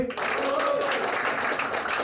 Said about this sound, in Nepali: सो जोरदार तालीले गडगडाटको साथ हामी स्वागत गरौँ